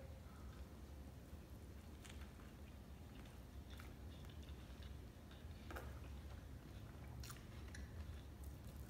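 Biting into and chewing a venison cheeseburger without sauce: close, soft crunches and moist squishing in irregular bites over a steady background hiss.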